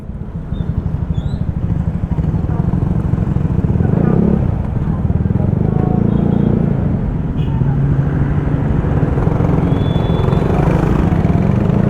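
Yamaha Mio Sporty scooter riding through busy market traffic in San Pascual, Batangas, with a loud, steady engine drone close by throughout and the surrounding traffic noise mixed in.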